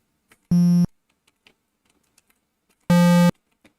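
Two short, loud synthesized sine wave bass notes sound a couple of seconds apart, with faint key clicks in the quiet between them.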